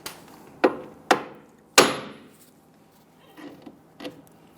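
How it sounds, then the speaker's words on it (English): Sharp metal hammer strikes on a Jeep Grand Cherokee steering knuckle to knock loose the tie rod end: three loud, close blows in quick succession, then two softer taps, each ringing briefly in a quiet garage. "we're going to use a hammer and strike this here"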